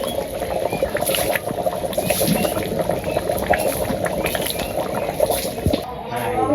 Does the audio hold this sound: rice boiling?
yes